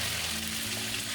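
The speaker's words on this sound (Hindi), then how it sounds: "और अब इस तेल में मैं ये जो बैंगन है ये थोड़े से फ्राई कर दूँगी" Eggplant frying in hot oil in a pan, a steady close dense sizzle and crackle with no talk.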